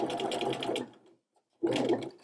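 Sewing machine stitching a rolled hem with a narrow hemmer foot, two quick bursts of close, rapid mechanical whirring separated by a short silent pause, with no voice.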